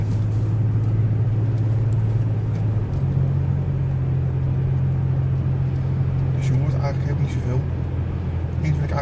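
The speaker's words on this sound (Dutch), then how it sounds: "Ja, en zoals je hoort, het is ontzettend stil in de auto." Cabin of a 1987 BMW 735i E32 on the move, a low, steady engine hum and muted road rumble that shifts pitch slightly a few seconds in, with someone talking over the quiet drone.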